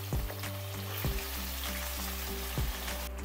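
Cumin, green chili and grated potatoes sizzle steadily in hot ghee, a close, continuous frying hiss with a few soft stirring knocks.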